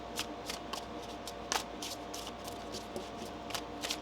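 Tarot cards are shuffled repeatedly, a rapid series of crisp riffling bursts close by, with quiet room noise between them.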